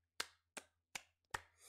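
Four crisp hand claps in an even, moderately paced rhythm, close and fairly quiet, with near silence between them.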